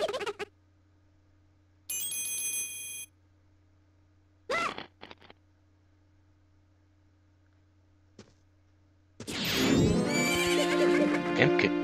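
In The Legend of Zelda: Majora's Mask, a horse gives a loud whinny near the start, amid sparse game sound effects and chimes, with louder game music swelling at the end.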